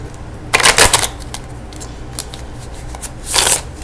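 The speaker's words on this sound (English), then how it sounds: "let's go ahead and get a good shuffle going here" Tarot cards are shuffled up close in two quick riffling bursts, with softer flicking and sliding of cards in between, no speech.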